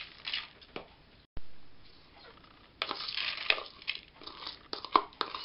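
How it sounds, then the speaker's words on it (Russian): Raw rice poured onto 300 grams of minced meat in a dish, giving grainy rustling patter and crinkly crunches in bursts, loudest in the second half, with a brief silent gap early on. "мы высыпаем рис"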